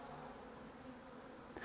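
Honey bees buzz in a dense, steady drone at a hive being readied for the season, close and continuous, with a brief knock near the end.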